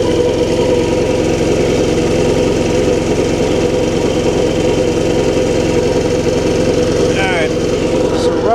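A Predator 11500W generator running on propane, fed through a regulator and hose, drones steadily and loudly throughout with a constant engine hum, and a brief squeal or whine cuts in near the end.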